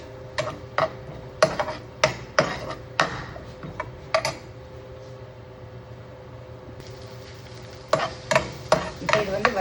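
Something is sautéed in a pan and stirred with a utensil in short bursts of sharp scraping clinks, followed by a quieter stretch of soft sizzling, then another flurry of stirring; no talking.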